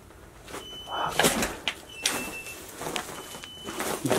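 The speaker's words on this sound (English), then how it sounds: "Door." A door in a wrecked, gutted rental unit after a bad eviction, moving with scraping, rattling sounds and a few sharp knocks over a hissy room background.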